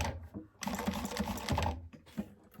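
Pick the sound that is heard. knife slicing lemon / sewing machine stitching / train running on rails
sewing machine stitching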